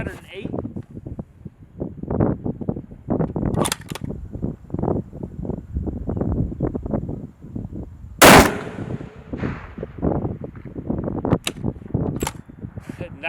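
A rifle fires at long-range steel targets set out to about 908, with one sharp, loud report cutting through steady conversation between people nearby.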